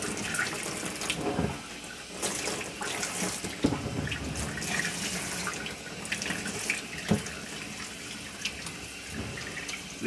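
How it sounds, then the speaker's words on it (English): Hot water running from a tap into a sink during pinball leg rust removal, a steady splashing stream with shifting gurgles and a few clunks, close and alone. "Ooh, hot water."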